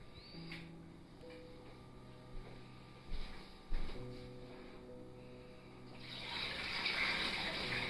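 Boiling water used to soak salt fish is poured out of a pot, a rushing, splashing gush rising in the last two seconds after a few soft clinks and quiet kitchen sounds.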